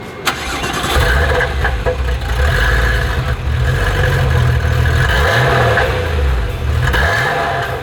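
A Porsche 911 Type 993 with an air-cooled flat-six starts up and revs loudly and close, its throttle blips rising and falling over a rough idle.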